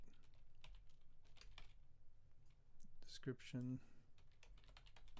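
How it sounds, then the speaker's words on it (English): Typing on a computer keyboard, quiet and close, with scattered soft key clicks throughout and a quick run of keystrokes in the middle while someone speaks briefly. "I'm going to just type in Notepad."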